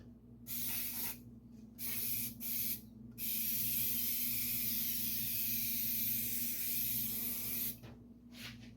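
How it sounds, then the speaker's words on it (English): An aerosol can of brake cleaner sprays in a few short hissing bursts and then one long continuous blast, used on the small-block engine of a 1951 Chevy, with a low steady hum underneath. "Brake clean is wonderful stuff."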